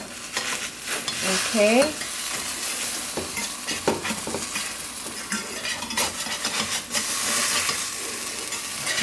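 Vegan omelette sizzles in oil in a pan with a steady crackling fry, broken by scraping and tapping of a utensil as it is turned, and a brief spoken word.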